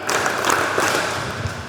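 Children clap along in a rhythmic Indonesian clapping game at a children's religious talk, a steady patter of close hand claps with a few louder thumps, continuous throughout with no break.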